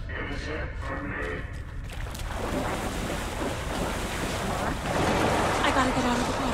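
Water sloshes and waves wash around the character in the video game Alan Wake 2, a steady broadband rush that swells louder toward the end, with wind-like noise throughout.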